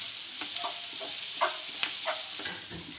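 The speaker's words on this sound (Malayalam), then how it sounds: "അപ്പം ഇനി നമുക്കിതിലേക്ക് പച്ചമുളക് ചതച്ചത്, അതുപോലെ ഇഞ്ചി, ഇത് രണ്ടും കൂടി ഇട്ടിട്ട് ബാക്കിയും കൂടി വഴറ്റിയെടുക്കാം." Onion sautés with crushed green chili and ginger, giving a soft, even sizzle with several light stirring taps and scrapes close by.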